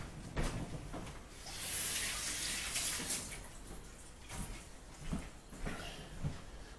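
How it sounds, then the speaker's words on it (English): Running tap water rinses hands at a kitchen sink while Samoan taro-leaf and lamb dishes are prepared, a broad hiss swelling for about two seconds in the middle among soft handling clatter and splashes. "I'm just going to rinse my hands."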